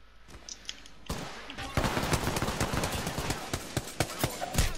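A G7 rifle in Apex Legends fires as a quick string of sharp, close shots after a short pause, joined by denser overlapping gunfire from the fight around it.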